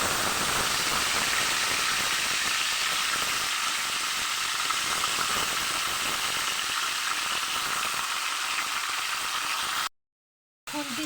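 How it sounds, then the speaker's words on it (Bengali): Chicken pieces fry in hot oil with a loud, steady, crackling sizzle that runs continuously, then cuts out briefly near the end. "তেতে গেছে, এবার আমি চিকেনগুলোকে আমি তুলে দেব তেলেতে।"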